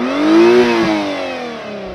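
A 2022 Acura NSX Type S engine, heard from outside the car, rises in a sharp rev and then falls away with a steady, fading tone. The sound is loud and alone, with no talk.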